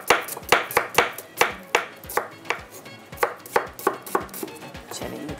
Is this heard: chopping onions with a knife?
yes